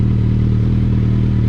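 Suzuki Hayabusa motorcycle engine running close by with a steady, throaty low rumble and faint clatter, held at an even rev without rising sharply.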